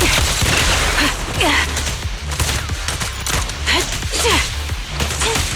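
Rapid bursts of video game gunfire from fire support in Zenless Zone Zero, loud and dense, with whooshing effects and mechanical clanks layered over a steady low rumble.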